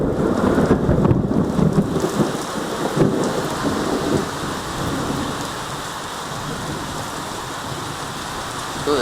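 Thunderstorm with heavy rain, a loud rumbling thunder roll in the first few seconds over a constant dense downpour that continues steadily afterward.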